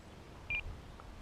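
A single short electronic beep from an RC flight timer at the field, heard once over a steady low background hum.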